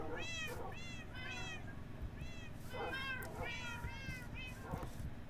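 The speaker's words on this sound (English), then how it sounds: "Just hundreds of cats now." Many cats meow in Minecraft, overlapping repeated high mews from several animals close by, continuous over a low steady background hum.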